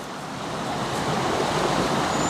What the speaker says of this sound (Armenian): Հավեսա, չէ, ստես ջրի ձենը